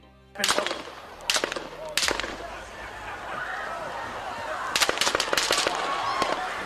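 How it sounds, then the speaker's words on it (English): Gunshots fired by Thomas Matthew Crooks at Donald Trump ring out as three sharp, evenly spaced cracks followed by a rapid burst of five more, set against steady background noise. "it sounds like Crooks took shots in two different manners. The first 3 shots were more slow and well-paced, whereas the last 5 were much more rapid"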